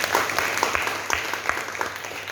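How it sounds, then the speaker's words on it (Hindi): An audience claps at a gathering in an Indore hall, a dense, steady patter of many hands at close range, holding even and lively from start to finish. "अभी जोरदार ताली भी बजा सकते हैं।"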